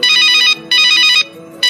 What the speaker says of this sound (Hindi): अरे अब ये किसका फोन आ गया?